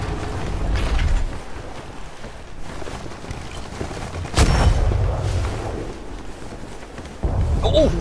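A single heavy cannon boom from ships in a naval video game bursts out midway through a rumbling ambient background, with voices talking faintly around it.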